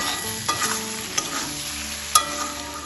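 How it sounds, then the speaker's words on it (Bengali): Sugar being stirred into an egg and eggplant curry in a frying pan, a constant close sizzle with a few distinct spatula scrapes and one sharp clink. "চিনিটা ভালোভাবে মিশিয়ে নিই"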